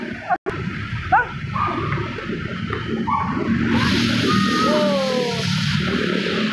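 Musical telolet horn of a bus sounds in several rising and falling tonal bursts, loud and close, over crowd noise and street ambience.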